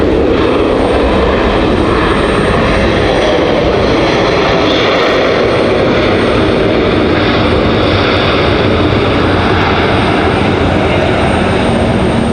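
A Boeing 737-700 jet lands at Raleigh Durham airport with a loud, continuous roar of engines and rushing air, heard close and steady throughout.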